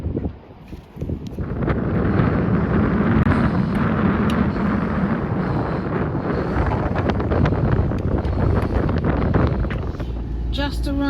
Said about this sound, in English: Tad windy today, blowing air everywhere.